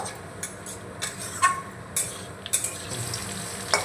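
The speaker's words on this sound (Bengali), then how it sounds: "ওদিকে গাজর আর বরবটি ভাজা হতে থাক" Carrots and long beans frying in a pan, a low steady sizzle broken by a few sharp clinks and scrapes of stirring, with no voices.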